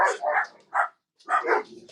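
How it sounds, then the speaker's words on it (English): Several dogs bark in short bursts, a few quick yips followed by a pause and then another cluster of barks, fairly close and loud. "All my dogs are going off now."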